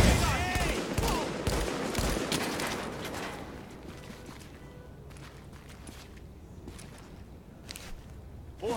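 Rapid bursts of gunfire from a DayZ firefight, dense and loud in the opening seconds, then thinning to scattered, more distant shots over a low background rumble.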